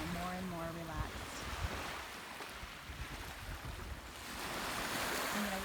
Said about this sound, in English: Lots of waves coming up to the shore, a little bit windy today.